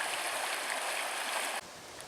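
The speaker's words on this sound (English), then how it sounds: "And it's right next to the river." River flowing right beside a campsite on the Superior Hiking Trail, a steady close rushing of water that drops a little quieter near the end.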